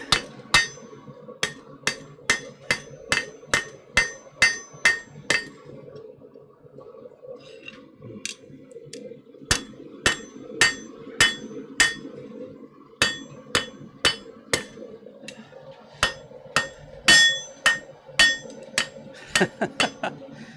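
Sharp metallic hammer blows ring out in quick rhythmic bursts as the tip of a hot tool is worked on an anvil in a smithy, loud and close, with brief pauses between runs of strikes.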